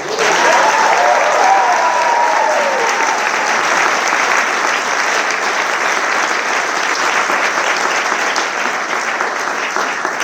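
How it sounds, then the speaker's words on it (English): Audience applause at a medical school graduation awards ceremony, a big steady round of clapping from a large hall that holds evenly for about ten seconds, with a voice briefly heard at the start. "Let's all have a big round of applause to Colonel Bellini for all the work he did"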